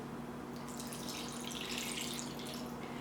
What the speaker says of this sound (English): And then I'm going to add about 3/4 cup water.